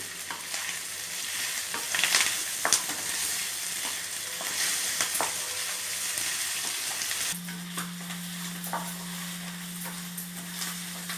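Green chilli pieces frying in a pan for Andhra naatu kodi fry, heard as a bright continuous sizzle with stirring scrapes and clinks, close up and without voices, with a steady hum joining partway through.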